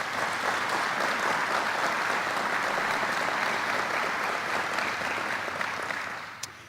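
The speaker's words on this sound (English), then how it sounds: "Let's give them a round of applause." A crowd applauds first responders at a governor's bill signing, with steady, full clapping that continues evenly for several seconds and tapers slightly at the end.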